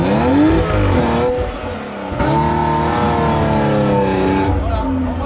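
A BMW car accelerates hard from a launch, loud and close, with its engine pitch climbing through the gears as people talk over the noise.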